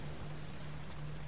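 Brief stretch of continuous rainfall in the video game Nioh, an even hiss of drops over a faint low drone.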